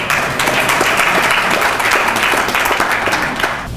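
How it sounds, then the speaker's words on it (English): A crowd breaks into steady, loud applause, many hands clapping together in a dense wash that holds evenly and then begins to taper off. "He deserves a round of applause just for that."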